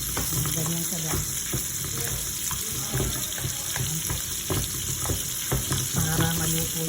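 Steak frying in a pan with butter and garlic, a steady close sizzle and crackle running throughout, with occasional stirring clatter and faint running-water sounds in a home kitchen.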